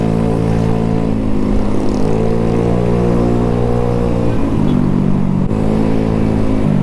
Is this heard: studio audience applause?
no